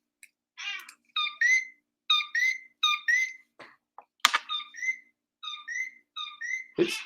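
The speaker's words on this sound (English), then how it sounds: "These damn coqui frogs sit outside your window and make all noise all night." Repeated two-note chirps from coqui frogs, a short note followed by a rising whistle, calling in quick series close by, with a couple of brief scratchy noises between.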